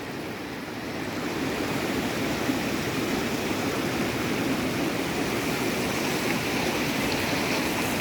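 Floodwater rushing down the front of a homestead property, a loud continuous broadband roar of fast-moving water close by, steady throughout with no voices.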